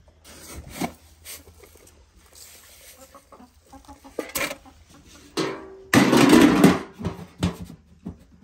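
Chickens cluck and squawk nearby in scattered bursts, with one louder flurry of agitated calls near the end amid faint rustling.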